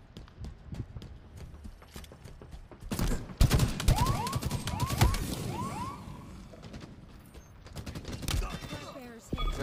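Halo Infinite multiplayer gunfire: bursts of rapid weapon shots, some sharp and near, others in quick automatic runs, with sci-fi zipping effects over the game's background sound.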